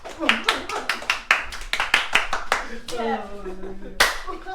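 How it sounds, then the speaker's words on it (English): Hands clap sharply in a home kitchen after cooking, as roommates are called over. About a dozen crisp, uneven claps come close and loud, with voices chattering between them. "Yo, I just clapped."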